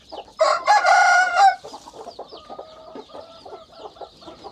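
A rooster gives a loud crow early on, then hens cluck softly and repeatedly in a farmyard setting among a hen with her chicks.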